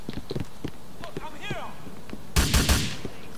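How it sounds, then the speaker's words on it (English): M4 rifle fire in the video game GTA IV arrives as a sudden loud burst of rapid shots near the end. Speech and game sounds come before it. "Who's shooting the fucking M4?"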